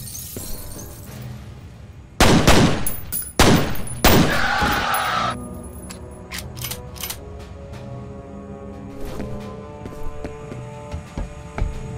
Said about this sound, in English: I'm loving these dual pistols.